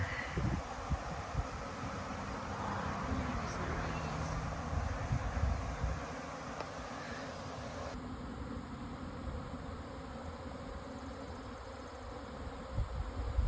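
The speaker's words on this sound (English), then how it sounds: "it's just bees everywhere." A dense, steady drone of a swarm of bees buzzing all around, continuous and fairly loud, with light wind noise in the background.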